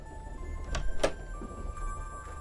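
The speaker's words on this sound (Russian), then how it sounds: "Кто-нибудь ответит этот проклятый телефон?" A phone ringtone in the horror adventure game The Charnel House Trilogy, coming from a neighbouring train carriage: a few faint, short electronic tones ring out briefly against a quiet hum.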